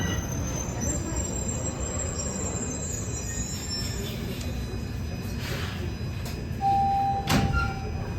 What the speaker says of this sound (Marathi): टोरंटोची मेट्रो